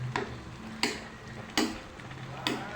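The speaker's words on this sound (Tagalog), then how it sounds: "Para itong haluin." A spoon scrapes and knocks against a pot while chili is stirred into a chicken stew with banana pith, giving four separate clanks at a steady pace over a soft simmer.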